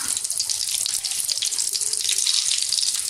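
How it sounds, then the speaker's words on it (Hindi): Chicken rolls fry in hot oil in a frying pan, giving a continuous bright crackling sizzle with fine popping throughout, steady and close. "मैंने फ्राई पैन में तेल को अच्छी तरह से गर्म कर लिया है। तो अब इसमें हम डालेंगे रोल।"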